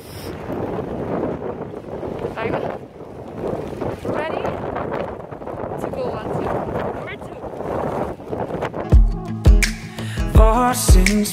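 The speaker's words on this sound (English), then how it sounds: "It's raining, it's windy." Strong wind buffets the microphone in rough, uneven gusts on a rainy beach in Iceland, loud and constant, with people talking through it and heavier thumping blasts near the end.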